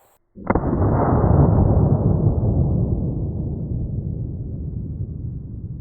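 A single sharp report from a Smith & Wesson 22 Victory firing 40 grain .22 long rifle at a block of dry ice, followed by a long, loud rumbling decay that slowly fades, no voices.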